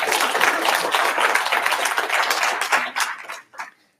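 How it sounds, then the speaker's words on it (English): A conference audience in London clapping for a speaker, brisk and steady, then thinning out to a few last claps before falling silent. "Applause"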